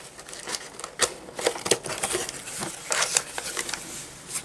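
Paper and plastic wrapping on a True Artist package being torn and crinkled open by hand, a series of close, uneven rustling bursts and tearing sounds with no talking.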